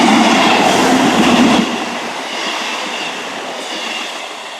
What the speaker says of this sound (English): passing through now is the 13:05 pass to Portsmouth Harbour from Cardiff Central.